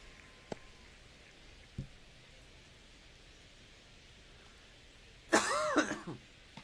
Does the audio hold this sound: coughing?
yes